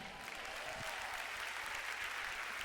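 A church congregation claps during a sermon, a faint, even wash of applause with a soft rhythmic beat pulsing beneath it.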